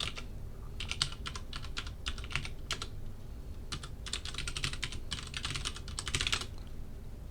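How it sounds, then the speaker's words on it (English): Quiet bursts of keystrokes on a computer keyboard, clusters of rapid clicks separated by short pauses over a soft background hiss. "Hit enter, and then you'll type your information all over again."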